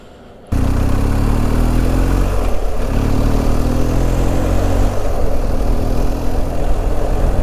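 A fully loaded motorcycle starts with an abrupt roar after a brief quiet moment, then settles into a steady, loud, close idle with a low rumbling pulse and slight rev variations.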